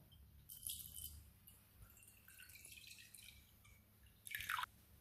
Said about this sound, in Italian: Cominciamo a versare il latte in ciotola.